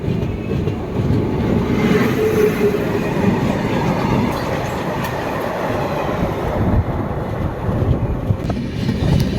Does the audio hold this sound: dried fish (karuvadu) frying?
no